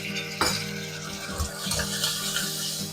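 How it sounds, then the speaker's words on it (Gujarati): Spoonful of water added to a pan of red chilli powder, salt and spices frying for a Gujarati onion and potato curry, with a brief splash, stirring scrapes and clinks of the pan, and a steady sizzle underneath. "બધા મસાલા બળે નહીં ને સરખા સતરાય તેની માટે 1 ચમચી પાણી એડ કરીએ."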